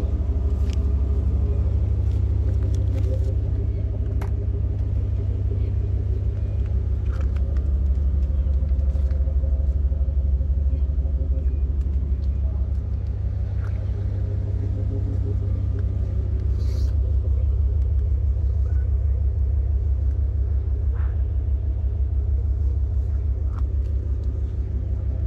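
A 2007 Mustang GT with a Gibson exhaust, a Kenne Bell supercharger and a five-speed idles close by, giving a deep, steady low rumble that lasts throughout with little change.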